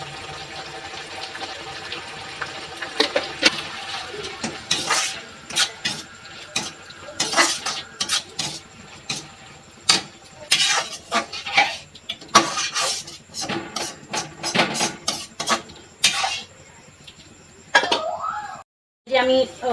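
Chilli chicken is stirred in a pan, with repeated sharp scrapes and clanks of the utensil against the metal coming close and irregular, over a steady kitchen background.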